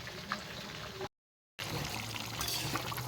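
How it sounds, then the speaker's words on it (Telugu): Water is poured into a fish fry marinade in a faint, close trickling pour, broken by a brief moment of total silence before it resumes. "కొంచెం వాటర్ పడితే పోసుకొని ఇలా కలుపుకోవాలి"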